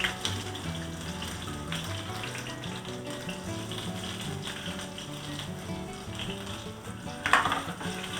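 Ginger and garlic sizzle steadily in hot oil in a pan, with mustard seeds already in, for a Kerala-style mackerel curry; the frying hiss is continuous and fairly close, with faint background tones underneath and a brief louder clatter near the end.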